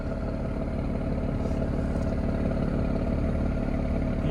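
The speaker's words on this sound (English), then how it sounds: "Coming around to the back, you can hear that exhaust." 2020 Audi S6 exhaust burbles at idle with a steady, even low rumble, close by and continuous, with no talk over it.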